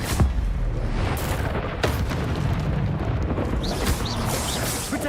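A Confringo explosive spell cast in Hogwarts Legacy gives a sustained, loud, roaring blast with booming low rumble and sharp bursts, continuing steadily throughout with no talk.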